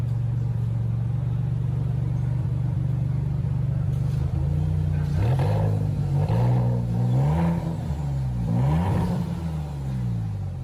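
Maserati MC20 engine revving repeatedly as the pedal is pressed, loud rising and falling surges over a steady deep idle rumble, close by with no talk.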